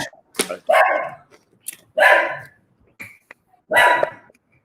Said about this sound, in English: this is like a real ghetto bootleg shit we're doing tonight with the dog barking in the background